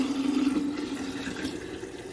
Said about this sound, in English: now we are going to pour it into my jars